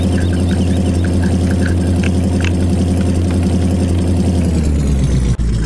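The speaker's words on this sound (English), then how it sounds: "let's start the engine, drive it off" A vehicle engine in Farming Simulator 17 runs at a steady, loud idle with a rhythmic low chug and mechanical knocking, continuous and close with no talk, ending in a brief click.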